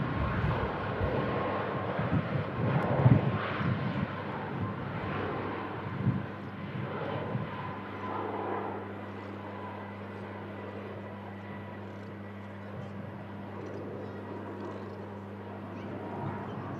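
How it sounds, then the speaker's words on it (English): A Ryanair jet's engines spool up at an airport, a rough rumbling roar that settles into a steady droning hum, heard from a distance with some faint background noise. "Ryanair makes a racket as it spools up."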